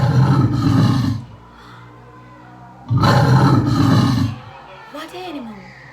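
A lion gives two deep, rumbling roars, each lasting over a second with a quiet gap between them, loud and close, followed by a softer trailing growl.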